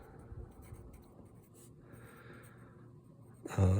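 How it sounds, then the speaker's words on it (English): Writing on a board by hand produces faint, quiet scratching strokes, then a louder knock-like bump near the very end. "let's write this down"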